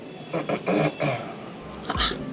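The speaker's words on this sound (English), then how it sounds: "Are you having cough?" A couple of short, harsh coughs close by, followed by a brief throat-clearing sound.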